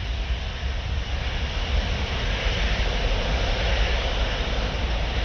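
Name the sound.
Boeing 787 jet taking off at Paris Orly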